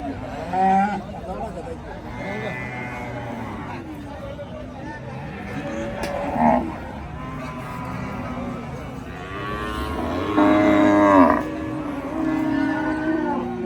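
Cattle, including bulls, low and moo repeatedly amid the murmur and chatter of a busy cattle market in cold weather, with people talking close by.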